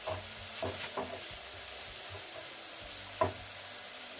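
Onions and capsicum with spices fry in a pan, a soft steady sizzle with a few occasional stirring scrapes of a utensil, close and fairly quiet.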